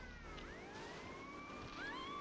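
A police car siren in Grand Theft Auto Vice City wails steadily and fairly close, its pitch sweeping up and down over a constant background hum.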